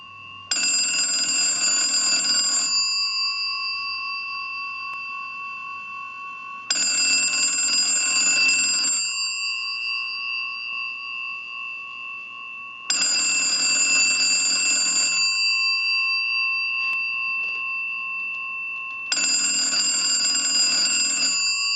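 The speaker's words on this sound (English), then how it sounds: "use the analyzer and send a ring cycle like you were getting a call" A Western Electric 317 wooden wall crank telephone rings on a test ring cycle, with four loud, bright bell bursts of about two seconds each, evenly spaced by silences of about four seconds.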